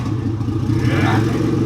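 A Y32 car engine rumbles steadily up close, its low throaty, Harley-like growl rising slightly as it revs, with no talking over it.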